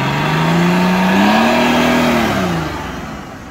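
An off-road car's engine revs hard and climbs in pitch as it pulls out of a treacherous spot, loud and close, holding high before easing off at the end.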